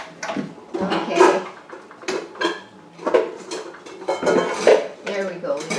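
Ceramic dishes clink and knock together in a cupboard as a small bowl is fetched, a run of close, irregular clatters with occasional cutlery jingles and scrapes.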